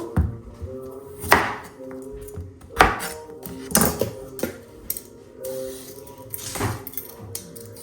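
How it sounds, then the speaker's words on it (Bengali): Radish being cut with a knife on a board, a series of irregular sharp chops and clunks at close range, with no talk. "এখন হচ্ছে মূলো কেটে নিব।"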